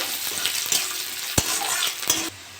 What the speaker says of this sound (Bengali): পেঁয়াজ দিয়ে দেবো একটু ভেজে নেবো